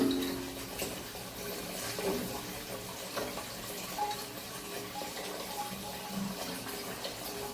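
Water runs steadily from a tap while a pet dog is washed, a continuous close splashing stream with small shifts in flow and faint background sounds.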